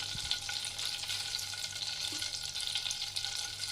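Hot oil frying in a pan while making paneer butter masala, a continuous soft crackling sizzle with faint stirring clicks, close and quiet with no talk.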